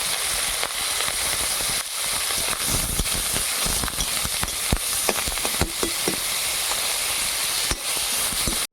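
Onion, curry leaves and spices frying in oil in a wok, a steady close sizzling hiss with scattered crackles and pops running throughout.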